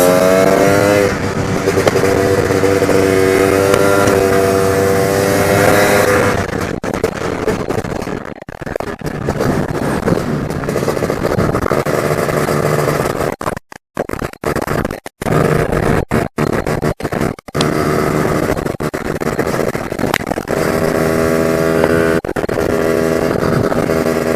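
A car with a Casa Performance setup accelerating in third gear, its engine droning loudly and continuously, with harsh roughness and brief dropouts midway before the steady pull returns.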